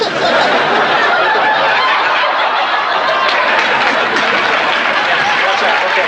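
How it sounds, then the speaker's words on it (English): Studio audience of a family sitcom laughing and applauding, a dense, steady wash of crowd noise that fills the whole stretch at close, even loudness. "That got an applause, people."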